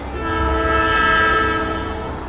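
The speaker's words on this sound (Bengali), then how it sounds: "মাটি কাঁপানো শব্দ করে গতি নেয় একটা দূরপাল্লার ট্রেন।" A long-distance train rumbles past with a deep, steady low roar and sustained horn-like tones, loud and close, swelling then easing slightly over a couple of seconds with no voices.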